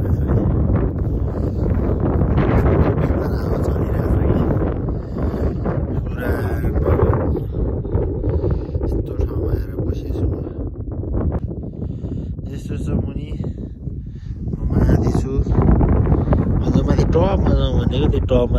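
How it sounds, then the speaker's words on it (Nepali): Cold mountain wind buffets a microphone in heavy, continuous gusts, a loud rushing roar that rises and falls throughout. "हावा चलिरहेको छ"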